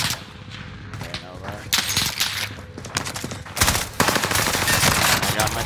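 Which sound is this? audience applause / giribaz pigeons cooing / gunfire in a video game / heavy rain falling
gunfire in a video game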